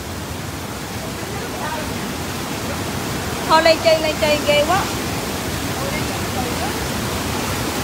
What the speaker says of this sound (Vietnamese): em thấy nước chảy xuống mạnh quá